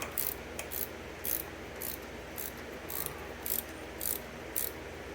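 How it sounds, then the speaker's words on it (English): A hand ratchet tightens a spring compressor on the suspension of a 1971 GTO, making quick bursts of dry clicking at a steady rhythm, close and clear, with no talking. "I get a ratchet here and I do the rest."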